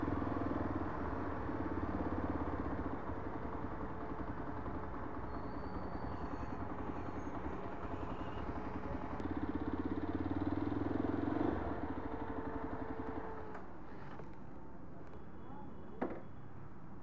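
A Yezdi Adventure motorcycle engine idling steadily at close range with a constant low thrum, ending with a brief clunk.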